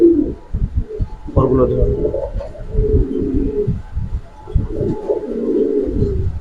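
Big-sized male pigeons give low, rumbling coos close by, the calls rising and falling almost continuously beneath a man's speech.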